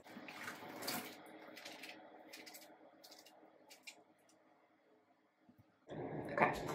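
Water run onto curly hair during styling, a soft rushing spray in short bursts that fades to near quiet, then a louder spray toward the end.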